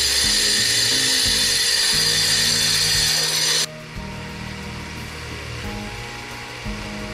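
A rock saw trims a cut stone with a loud, close grinding whine that stops abruptly partway through, leaving a lower motor hum and scraping.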